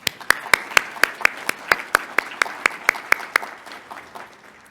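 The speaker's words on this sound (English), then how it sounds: "Let's give them a round of applause." Applause rings out at a scholars' conference breakfast workshop, led by sharp, evenly spaced claps in a steady rhythm over softer crowd clapping, close and loud before tapering off.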